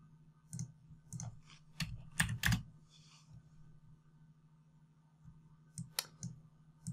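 Several sharp keystrokes on a computer keyboard while writing Matplotlib plotting code, coming in short irregular bursts with pauses between, close and clear over a quiet room hum.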